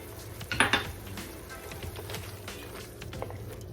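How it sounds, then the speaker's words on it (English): Worcestershire sauce is stirred into onions and garlic in a Dutch oven, with a few clinks and scrapes of a utensil against the pot, quiet and close, with no talk. "Nice and stirred around."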